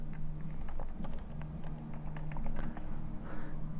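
Fingers type on a computer keyboard, a quick irregular run of close light key clicks lasting a few seconds over a low steady hum.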